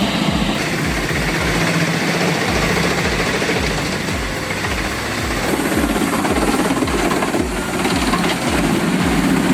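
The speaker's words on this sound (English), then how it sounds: "the Hanala 1310 wood chipper with a massive 70 by 100 centimeter intake and a 10 cubic meter bunker, it shreds branches and logs" A Hanala 1310 wood chipper with a 70 by 100 centimeter intake and 10 cubic meter bunker shreds branches and logs, giving a loud, steady mechanical roar with rapid pulsing throb throughout.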